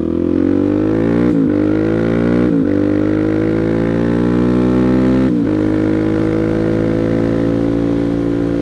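A motorcycle roars through a power wheelie, its engine climbing in pitch through three quick gear shifts, each marked by a brief break before the loud, close whine rises again.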